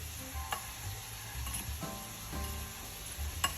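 Squash and onions stirred in a frying pan, with a spoon scraping and clicking against the pan in irregular strokes over a steady close sizzle.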